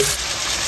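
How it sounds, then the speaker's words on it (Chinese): Duck legs sizzle in hot oil in a pan, a loud, steady frying hiss close by with no voices. "锅里倒点油，再把鸭腿下进来"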